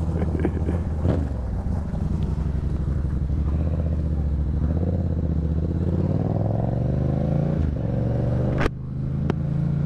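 A motorcycle rides along on a summer evening, its engine droning steadily and loud with rising and falling revs, wind buffeting the microphone throughout and a sharp clatter near the end.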